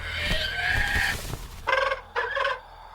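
A bird calls out in the Lord of the Rings Gollum video game: one long, bright, harmonic cry, then two shorter, sharper calls after a brief pause, heard clearly with no talking.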